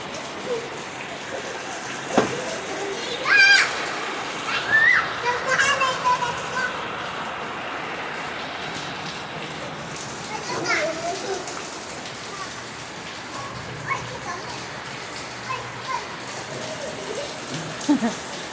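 Steady rain falls and patters across the whole stretch, while children shout and chatter in bursts nearby.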